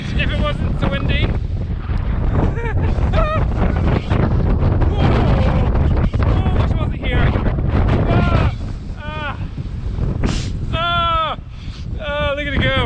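Strong wind buffets the microphone on a clifftop, a constant loud rumbling roar running throughout while people shout and talk over it.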